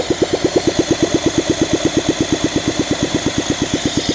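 A Honda SL125 motorcycle engine cranked without choke, a rapid, steady train of loud, close mechanical thumps repeating about eight times per second throughout, with no voices.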